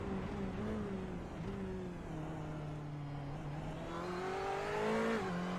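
Ferrari 488 GTE engine in a racing video game on a lap of Spa-Francorchamps, a steady loud drone that rises and falls in pitch through gear changes, heard alone.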